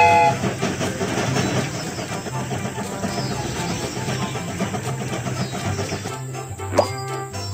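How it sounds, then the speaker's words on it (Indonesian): A cartoon train departing and rolling on rails, a continuous rumble with rhythmic clatter under a bright musical backing, then the sound shifts near the end with a short ding-like accent, with no talking. "Kereta ini akan segera berangkat."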